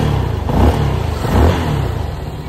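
A CFMoto motorcycle engine revs twice in quick succession, each throttle blip swelling then falling back to a steady rumbling idle, close and loud with no talking.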